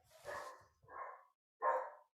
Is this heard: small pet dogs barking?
yes